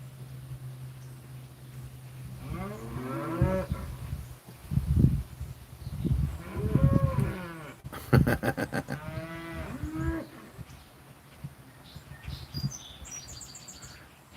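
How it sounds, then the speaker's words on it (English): A cow named Ghostface gives several long, deep, distinctive moos, drawn out and close by, followed by a brief clatter and faint birdsong in a quiet field. "Very distinctive moo."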